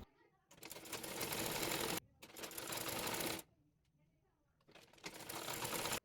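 A sewing machine stitches a neckband fabric onto a round dress in three loud whirring bursts of a second or more each, separated by short quiet pauses.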